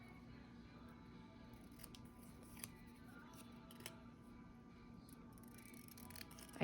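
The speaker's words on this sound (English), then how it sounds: "Get my little scissors and cut these down a little bit." Small scissors snip paper ephemera at a craft table, a few quiet, sparse cuts and light paper rustles against a faint background hum.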